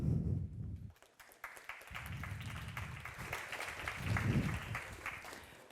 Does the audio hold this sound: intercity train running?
no